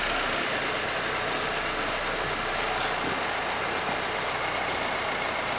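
A car engine idles steadily at close range with the low beam headlights switched on, after a solenoid replacement that did not fix an electrical fault; a continuous broadband rumble with faint knocking runs throughout, with no talk.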